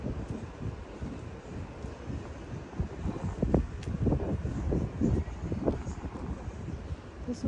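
Steady wind blows and rumbles outdoors, gusting louder in the middle, with a rough, buffeting texture.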